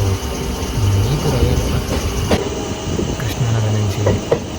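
Passenger special train no. 67769 rolling from Vijayawada toward Guntur, a steady loud rumble with rhythmic wheel clatter and faint voices in the carriage.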